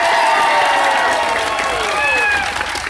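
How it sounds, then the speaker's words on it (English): A rally crowd at a gun control event applauds and cheers the speakers, with a steady, loud wash of clapping and voices that holds across the whole stretch and drifts a little toward the end. "give them a big round of applause"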